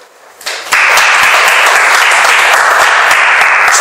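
Audience applause at an English lecture in a department store hall, beginning quietly and swelling into loud, sustained clapping from a crowd that holds steady to the end.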